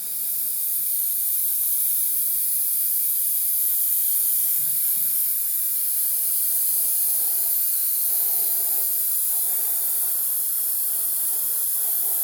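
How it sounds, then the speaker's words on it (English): An airbrush sprays Agrax Earthshade paint onto a Warhammer model in a steady, even hiss that runs close and constant throughout, with no talk. "I'm going to blast it through the airbrush"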